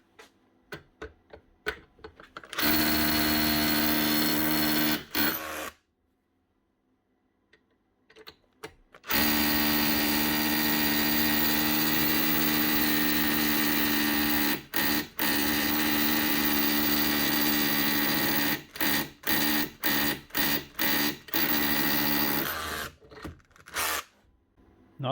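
A Makita power tool, likely a brushless hammer drill, runs under test in long bursts of steady loud mechanical whirring with a rattling tick, first a short run, then a longer one broken by brief stops and a few quick on-off pulses.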